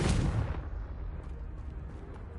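A Confringo blasting spell goes off in Hogwarts Legacy, a single heavy explosion with a loud initial burst that rolls into a long, rumbling decay, close and alone with no speech.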